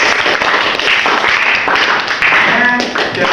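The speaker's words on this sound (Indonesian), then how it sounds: "Tepuk tangan untuk semua kelompok." A classroom group claps for all the teams, a loud burst of hand clapping mixed with nearby voices talking.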